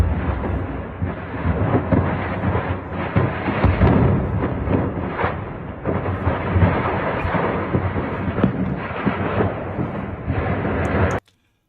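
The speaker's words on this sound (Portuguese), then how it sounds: "Olha a quantidade de explosão secundária, mostrando que foi justamente um armazém ali de munição" Secondary explosions tearing through a Russian munitions warehouse at a base in Syria after an Israeli strike, a continuous dense rumble of blasts and booms, loud and distant-sounding, with no voices, cutting off abruptly at the end.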